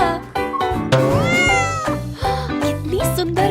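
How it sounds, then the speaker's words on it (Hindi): A cat meows loudly and repeatedly up close, its drawn-out, wavering cries riding over background music with a steady beat. "कितनी सुंदर बिल्ली।"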